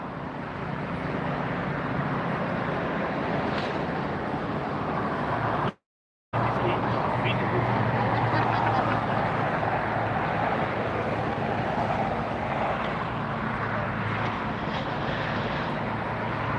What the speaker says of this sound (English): This is the Flexport 747 just arriving from Mexico City. 747-400.